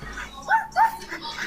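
A dog begs for a treat with short whiny barks and yelps, two distinct close vocalizations amid softer whimpering.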